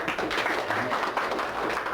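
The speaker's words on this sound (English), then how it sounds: "Give this big lady a round of applause." Seminar audience giving a round of applause, a dense, continuous wash of clapping from a room full of people, fairly loud and even throughout.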